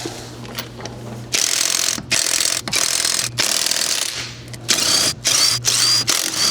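A small power tool loosens the rear lug nuts on a 2016 Honda CR-V, sounding about eight loud, close whirring bursts of varying length separated by short pauses, with a faint background hum in the gaps.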